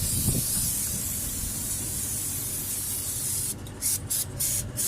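Engine cleaner sprayed onto a car engine, a loud steady hiss of aerosol spray running continuously, with a few short breaks near the end as the spray is released and pressed again.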